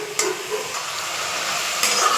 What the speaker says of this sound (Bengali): লাউয়ের সাথে কুলের সাথে ভালো করে নেড়ে চেড়ে একদম একটু কষিয়ে নেব